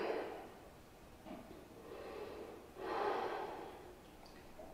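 A person doing a yoga flow breathes heavily through the nose in a quiet room, with three or four slow, audible breaths and no talking.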